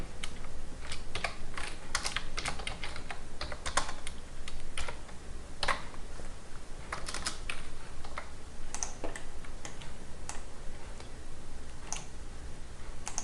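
Steady, rapid clicking of a computer keyboard as text is typed into a Revit title block, with irregular bursts of keystrokes running close and clear for the whole stretch and no talking.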